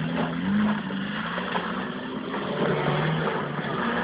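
Skoda 120 rally car engine braking, a steady droning engine note with a falling pitch, heard from inside the car at a constant loud level.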